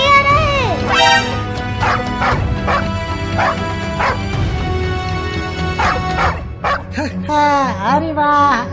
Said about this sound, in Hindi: देखो वो कुत्ता इधर ही आ रहा है।